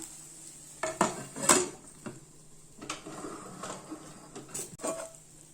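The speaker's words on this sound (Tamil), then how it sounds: "இப்போ ஒரு பிளேட்ல அப்படியே மாத்திரலாம்." A masala vegetable omelette is moved from the pan onto a plate, with quiet, close metallic scrapes and a few sharper clinks of utensil on cookware, and no talking.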